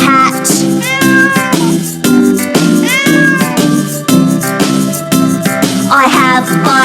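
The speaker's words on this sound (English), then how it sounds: "I can touch a cat" A cat meows repeatedly in rising and falling cries, mixed over a steady, bright backing of music in a children's nursery song, loud and close throughout.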